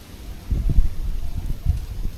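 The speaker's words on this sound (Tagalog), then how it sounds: "Grabe ang hangin." Strong gusts of wind in a forest buffet the microphone in low, rumbling bursts that rise and fall over a couple of seconds.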